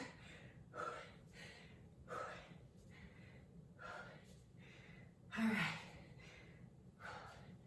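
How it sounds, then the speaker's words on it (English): Heavy, forceful breathing during a full-body bootcamp workout with dumbbell swings to shoulder height: about five loud gasping exhales come at a steady rhythm over a low constant hum, close to the microphone. "If you have music on, you can block out my breathing."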